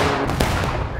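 A single loud, booming rifle volley goes off in War Of Rights, a massed crack of musket fire that rolls on for a moment with a rumbling tail.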